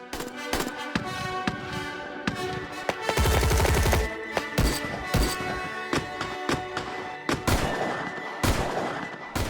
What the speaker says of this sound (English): For an hour, there is a hail of bullets, discarded shells, and gunfire on the range.